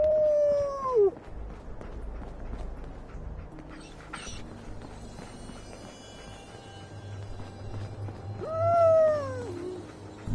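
A dog in the video game Fallout 4 lets out two drawn-out howls, one at the start and another near the end, over a low rumbling game background.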